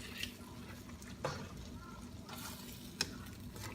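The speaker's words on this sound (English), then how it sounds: "Mix it well." Kare kare with ground peanuts stirred in a pot, with a few soft scrapes and clinks of the utensil over a faint simmering bubble, with no talking.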